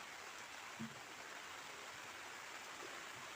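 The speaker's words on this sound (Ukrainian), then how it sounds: "Гарний дощик іде, уже другий день." Soft, even hiss of rain falling steadily outdoors over a garden of cucumbers and watermelons, a faint continuous wash with no voices.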